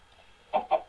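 Three short, bright clucks from a chicken in a Minecraft-style video game, evenly spaced and fairly close, after a quiet start; the tone has a synthetic, game-like quality.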